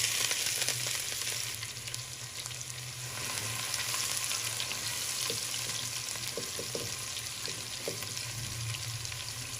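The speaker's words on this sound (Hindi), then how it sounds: "नाजरीन, ये 200 ग्राम प्याज है। ये हम फ्राई करेंगे।" Two hundred grams of thinly sliced onions fry in about 125 grams of hot oil in a home kitchen, giving a steady, soft sizzle with faint stirring taps throughout.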